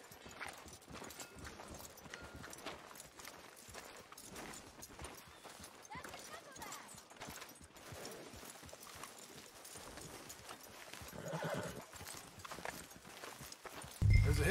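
A horse in Red Dead Redemption 2 clip-clops along at a steady walking rhythm of hooves, fairly quiet and close, with a voice speaking briefly near the end.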